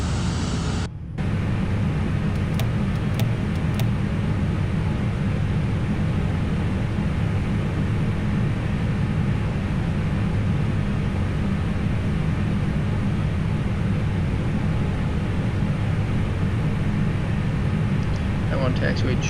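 A Flight Factor A320 airliner lands and taxis in a flight simulator game, its engines making a loud, continuous roar and rumble with a short dip near the start.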